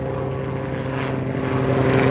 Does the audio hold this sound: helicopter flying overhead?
yes